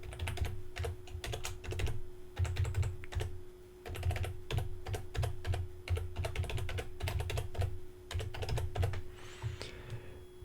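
Rapid, uneven clatter of typing on a computer keyboard, with bursts of closely spaced key taps and short pauses, close and steady over a low constant hum, with no talking.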